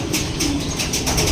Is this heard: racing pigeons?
yes